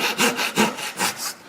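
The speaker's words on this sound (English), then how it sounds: "I have my flush cut saw flush with the top of the seat," A flush cut saw slices wooden tenons off flush with the top of a wooden seat, making close, loud rasping strokes in a steady back-and-forth rhythm of about four pulls in quick succession.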